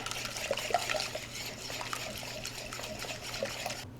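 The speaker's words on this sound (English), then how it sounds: "We add the wet mixture to the dry ingredients." Wet cornbread mixture with honey being poured into the dry ingredients, a soft continuous trickling and glugging that stays close and fairly quiet for several seconds, with no voices.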